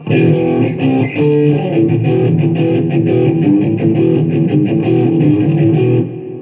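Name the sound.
distorted electric guitar tone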